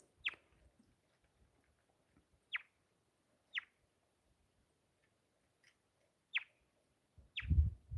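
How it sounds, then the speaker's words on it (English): A few birds chirp in sharp, brief calls spaced a second or more apart against quiet, followed by a low thump at the end. "And bird sounds."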